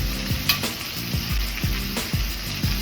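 Potatoes sizzling in a frying pan, a steady moderate crackle broken by regular scraping strokes of a utensil roughly every half second, close and without talk.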